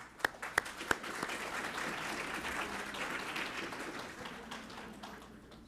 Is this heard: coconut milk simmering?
no